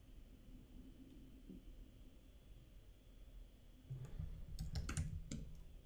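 Keys on a computer keyboard are tapped faintly and sparsely at first, then a brisk cluster of louder clicks arrives near the end over quiet room noise.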